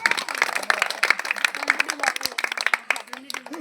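Dense clapping from an audience at a Sankranti stage celebration in a village, continuous and fairly close, mixed with overlapping talk.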